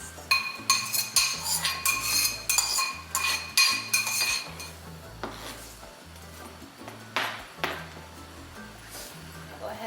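Utensil clinks and scrapes against a pot as tomatoes and long green onions are stirred in, giving a steady run of close, rhythmic metallic knocks over a low background, with several sharper clanks early on.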